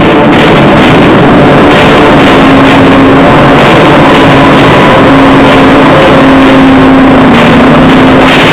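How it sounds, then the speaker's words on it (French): A 300 kg push lawn mower with a V8 engine runs with its cutting bars at full speed across a swath of nearly one metre. Its roar is loud, close and continuous, with no pauses. "les barres de coupe tournent à plein régime et fauchent sur une largeur de près d'1 mètre"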